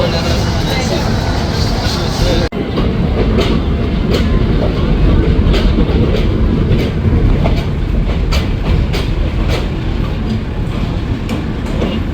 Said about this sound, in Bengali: ছেড়ে গেল সান্তাহার অভিমুখী পদ্মরাগ লোকাল ট্রেনটি